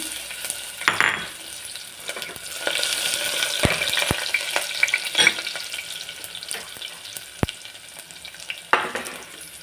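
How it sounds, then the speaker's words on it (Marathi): Cumin and garlic sizzle in hot oil in a pressure cooker, tempering for a brinjal and green chilli dish. A soft, steady fry runs throughout, with sharp clicks and scrapes of stirring. "चला आता फोडणी देऊ वांग्याला"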